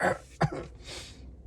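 A single harsh cough close by, followed by a breathy exhale.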